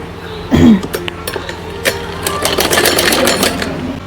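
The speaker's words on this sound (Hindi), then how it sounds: "इस प्रकार मियानी को रखेंगे और यहाँ पर सिलाई लगा लेंगे" Sewing machine stitching the crotch gusset of a child's night suit, close and fairly loud, with a short clack at the start followed by rapid rattling stitching bursts that build toward the end.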